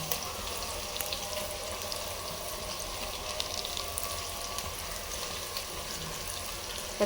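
Garlic and onion frying in oil in a pot before rice is cooked, a steady close sizzle with a hissing, watery texture throughout and no talk.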